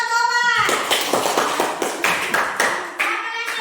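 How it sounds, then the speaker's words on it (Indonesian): Schoolchildren in a classroom clap their hands after a pupil answers, a short burst of sharp, fairly close claps in loose rhythm that begins after a brief voice and fades toward the end. "tepuk tangan tuh"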